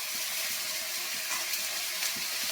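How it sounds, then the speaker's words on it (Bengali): Green peas tossed into a hot pan of spices give off a steady, dense sizzling hiss that stays even and continuous from start to finish, with no talking. "হ্যাঁ, ঝরঝর ঝরঝর করে কড়াইশুঁটি।"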